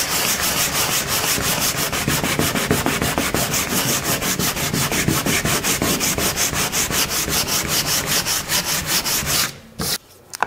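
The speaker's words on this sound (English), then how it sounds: "So right now, I could keep sanding it." Sanding acrylic paint on a large painting, rapid rhythmic back-and-forth rasping strokes, loud and close, stopping near the end.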